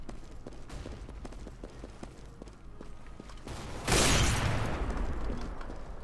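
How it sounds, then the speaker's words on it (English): A flashbang grenade goes off in Counter-Strike: Global Offensive with a single loud burst that cuts through steady in-game ambience and lingers as a broad ringing wash for the last couple of seconds. "Flashbang."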